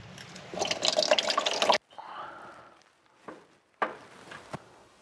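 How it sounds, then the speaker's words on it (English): Coolant drains from the water pump housing of a Mitsubishi Lancer CE with a 4G93 engine during a timing belt job, first as a splashing trickle, then as sparse, separate drips with short pauses between them. "try to drain all the coolant down into here"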